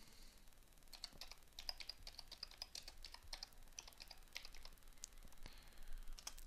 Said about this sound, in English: If we type forever symbol into Google